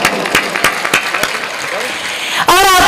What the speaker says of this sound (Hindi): एक बार आप सब अपने लिए जोरदार तालियां बजा दीजिए।